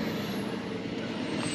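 A garbage truck on trash-day collection lets out a loud, continuous hiss of air brakes in the background, a dense rushing sound with a low rumble beneath and no speech.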